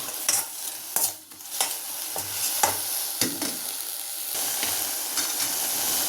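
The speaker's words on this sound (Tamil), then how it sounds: "வல்லாரையை போட்டு லைட்டாக ஒரு கிண்டு" Vallarai (gotu kola) greens stirred and frying in hot oil in a pan, a steady broadband sizzle with intermittent scraping stir strokes, close and alone without talk.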